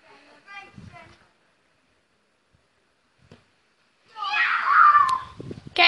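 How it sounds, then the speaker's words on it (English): A cat outdoors gives one long, loud, drawn-out meow near the end, after a pause and brief speech at the start. "There's a cat."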